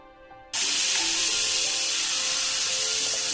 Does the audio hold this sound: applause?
no